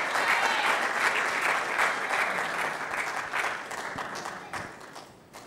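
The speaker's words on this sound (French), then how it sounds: "Lui, il s'appelle Roméo, sous vos applaudissements, je vous prie." Audience applause at an event honouring an Olympic champion, a dense, even patter of many hands clapping that slowly fades over several seconds.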